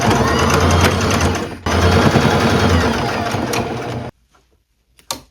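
A sewing machine stitches two pieces of thrifted quilt fabric together for a pair of pants, rattling quickly in two runs with a short pause between them, then stopping with a faint click.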